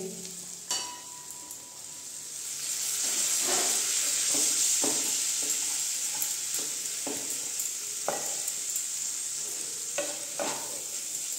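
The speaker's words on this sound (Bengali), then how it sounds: "ম্যাগিটা দিয়ে দিয়েছি, এখন ভালো করে আমি মিশিয়ে নিচ্ছি ম্যাগিটা" Maggi noodles being stirred into fried vegetables in a frying pan, a steady sizzle and hiss running throughout with repeated scraping stirs of the spatula at irregular intervals, close and alone.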